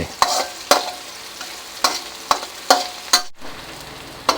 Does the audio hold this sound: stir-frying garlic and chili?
yes